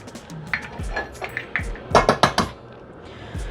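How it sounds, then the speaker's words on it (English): Four room-temperature eggs cracked one after another against a bowl, giving a string of sharp shell taps and clicks, loudest in a quick cluster near the middle, with no talking. "and then our 4 eggs at room temperature. So we'll crack these bad boys."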